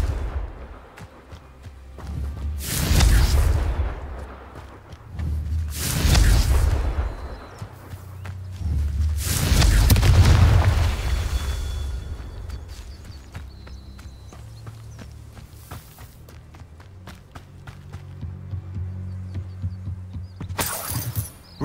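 Confringo fire spells in Hogwarts Legacy burst loudly about four times, separated by pauses. Each blast has a heavy booming body and a crackling decay, heard over a low ambient game hum.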